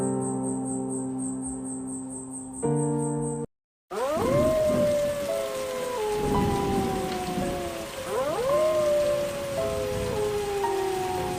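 Rain falls at night in a steady, close patter. Brief tonal notes and a short silent gap come first, then sliding, howling tones sweep over the rain.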